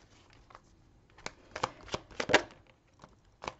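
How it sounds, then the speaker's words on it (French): Tarot cards are shuffled and drawn by hand in soft, close riffling and flicking bursts, with separate sharp snaps of cards landing, quiet overall and with no talk. "Je vais tirer les cartes et puis je ferai lecture après."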